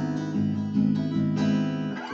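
Guitar chords strummed on open strings without a capo, so the voicings clash and sound wrong; several sustained strums ring out close and clear, with no talking.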